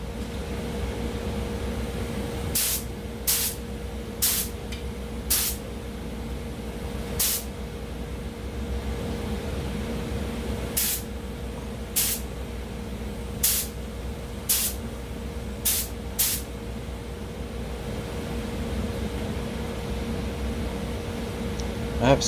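A paint spray gun lays gloss red paint onto an HQ Holden guard in about a dozen short, sharp hissing bursts, irregularly spaced over a faint steady background hum and no talk.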